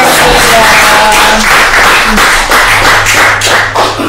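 An audience claps to welcome a guest at a podcast studio, a loud, dense patter of many hands mixed with a voice speaking over it.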